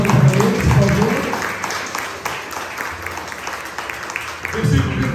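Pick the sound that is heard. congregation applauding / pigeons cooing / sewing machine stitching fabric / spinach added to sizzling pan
congregation applauding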